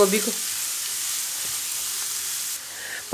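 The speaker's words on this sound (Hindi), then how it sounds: "अब गोभी को भी करेंगे हल्का सा फ्राई।" Cabbage lightly frying in a pan gives a steady, close, even hiss of sizzling oil that barely changes for a few seconds, with a faint stir near the end.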